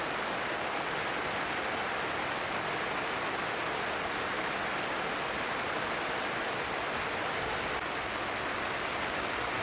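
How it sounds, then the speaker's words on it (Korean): Heavy summer rain falls steadily at 4 a.m. on a campsite, a dense continuous hiss with occasional sharper drips, constant and enveloping, with no voices. "새벽 4시인데 비가 이렇게 많이 오네요."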